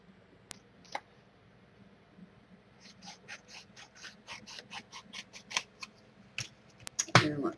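Scissors snip repeatedly through an MDF steampunk hat piece, a run of sharp close cuts that quicken and grow louder toward the end, with a few isolated snips at the start.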